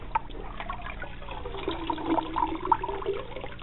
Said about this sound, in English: let the water flow freely.